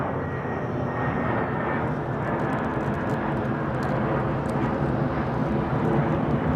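Loud, steady aircraft roar at London Heathrow, attributed to the hydraulic power transfer unit on an Airbus A350, a dense continuous drone with a faint high whine and occasional short clicks, no voices.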